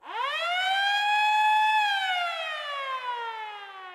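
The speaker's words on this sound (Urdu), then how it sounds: "صبح کے ٹھیک 7:57 پہ ڈورس کو ایک سائرن سنائی دیتا ہے" A single long air-raid warning siren at a naval base during an attack, rising quickly to a loud sustained wail and then slowly falling in pitch, heard alone.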